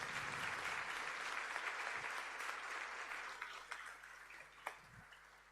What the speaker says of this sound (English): We can give them all another round of applause